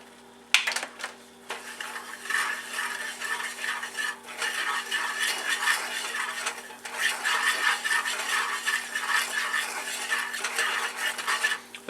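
Spoon stirring a teaspoon each of sugar and salt into a green bean casserole mixture, a steady scraping and clinking against the dish that runs nearly continuously for about eleven seconds, close and moderately loud, with no talk.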